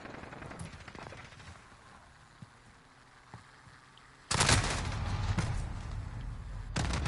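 Gunfire in the video game Call of Duty: Modern Warfare, starting as faint scattered shots and then breaking into loud, sustained automatic fire for the last few seconds, with no talking.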